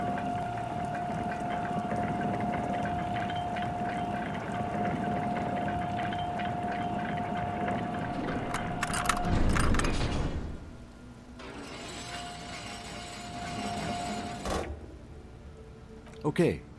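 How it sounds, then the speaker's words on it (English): In Disco Elysium, a rusting water lock lurches into motion with a mechanical hum and grinding drone, then a heavy clunk and shifting rumble, while a voice talks over it. "The water lock starts moving."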